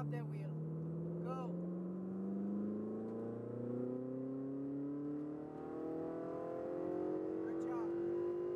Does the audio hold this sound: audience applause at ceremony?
no